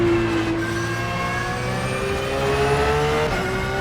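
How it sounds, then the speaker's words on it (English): A GT3 race car in the sim game rFactor 2 with a straight-cut gearbox, its engine droning steadily as a high whine holds and gradually rises in pitch through acceleration; continuous and loud, with no talking. "I love those straight cut gears on this thing."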